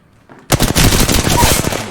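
Rapid automatic gunfire from the game Valorant, a dense loud burst of closely spaced shots starting abruptly and continuing without pause, close and sharp.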